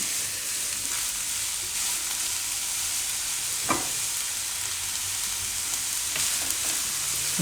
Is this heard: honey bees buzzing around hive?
no